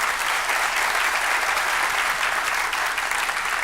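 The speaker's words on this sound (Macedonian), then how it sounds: "Ве молам еден аплауз прво за нив." A theatre audience at a stand-up comedy festival in Skopje claps in dense, steady applause that holds at an even level throughout.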